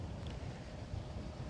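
Wind gusts across an open golf course, a constant low rumbling buffet of air against the microphone, with no other clear sound.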